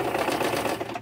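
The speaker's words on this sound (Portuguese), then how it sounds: "Deixa eu passar uma costurinha aqui." A sewing machine stitching fabric for a bunny napkin holder craft, giving a fast, steady mechanical rattle of the needle for about a second before it stops.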